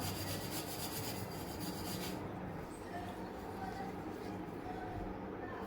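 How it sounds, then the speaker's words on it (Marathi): A thick steel-wire scrubber grinds and rasps continuously against a rusty gas stove burner ring, close and steady, brighter at first and duller later. "जाड घासणी घेतली तारेची त्याला हवं तर तुम्ही थोडा साबण लावून घेऊ शकता आणि हे आपल्याला थोडंसं प्रेस करून घासून घ्यायचं"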